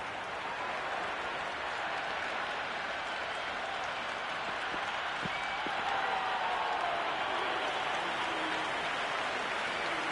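A game crowd applauds and cheers in a steady, hissing wash of clapping that stays distant and fairly faint for ten seconds, with no clear talk.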